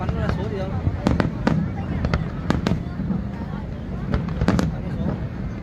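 Fireworks bursting at the Da Nang international fireworks festival, performed by the American team, with repeated sharp pops and crackles over a steady rumble of crowd chatter.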